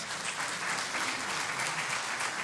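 A church congregation claps together in sustained, steady applause, a dense, even wash of hand claps filling the room with no voices standing out.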